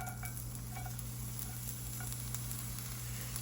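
Onions sizzling in heated oil for a green chile stew, a soft, steady hiss with scattered small crackles and a low hum underneath, quiet and without voices.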